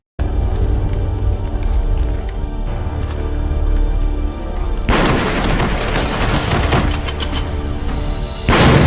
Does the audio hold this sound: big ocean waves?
no